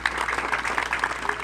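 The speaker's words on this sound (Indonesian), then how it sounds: "Tepuk tangan dulu untuk beliau." A short burst of clapping from an assembled group at a search-and-rescue training event in Yogyakarta, brisk and fairly close, with a voice faintly audible underneath.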